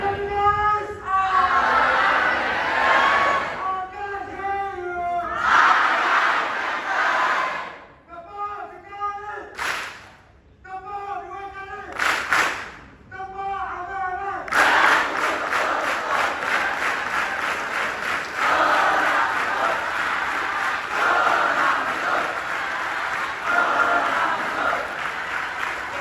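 A crowd at a Malaysian nationalism forum performs a cheer: loud group chanting in bursts with short pauses, then a sustained roar of cheering and applause that lasts to the end.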